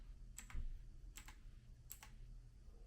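A few short bursts of typing on a Koorui MK-082 keyboard, three quick clusters of key clicks spaced evenly, fairly faint over a low hum.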